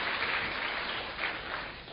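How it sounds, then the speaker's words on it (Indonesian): A church congregation applauds God during a worship service, giving a brief burst of steady, even clapping heard from some distance. "Berikan tepuk tangan yang meriah buat Tuhan."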